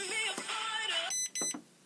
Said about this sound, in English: every button you press, makes a beeping noise